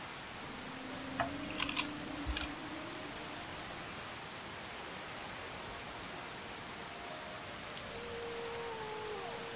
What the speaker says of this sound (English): Nice, and it's raining.